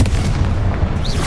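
A Confringo spell blast in the Hogwarts Legacy video game lands as a loud, deep booming burst that fills the short moment alone, with a brief rising whoosh near its end.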